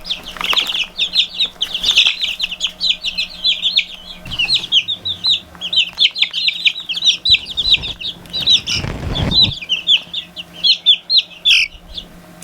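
Buff Brahma bantam hen with young chicks, clucking and cheeping nearly nonstop from close by, with soft bursts of fluttering and a few brief rustles.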